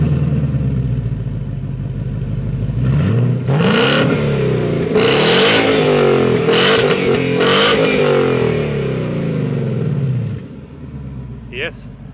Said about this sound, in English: take a second and listen to the exhaust.